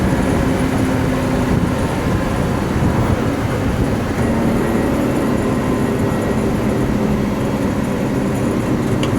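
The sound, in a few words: 1967 Ford F600 truck driving in fourth gear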